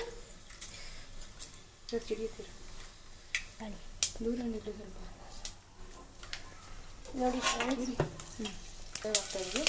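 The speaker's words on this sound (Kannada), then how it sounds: "ಈಗ ಎಣ್ಣೆ ಕಾಯ್ದಿದೆ ಈಗ ಸಾಸಿವೆ ಎಲ್ಲ ಹಾಕ್ತಿದ್ದೀವಿ" Mustard seeds sizzle and crackle in hot oil for a Kannada bitter gourd palya, a steady soft frying hiss with scattered pops and stirring clatter while a person talks over it.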